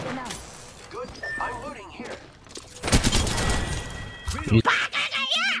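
Video game gunfire in bursts of sharp shots and fusillades, some loud and close, mixed with shouting voices and chatter throughout.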